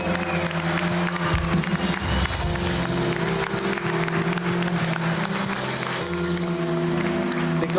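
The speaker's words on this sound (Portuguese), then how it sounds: "dê um aplauso bem forte ao Senhor nessa noite." Church congregation applauding during a family congress service, a sustained wash of clapping with steady background hum and music-like tones underneath, moderately loud and continuous.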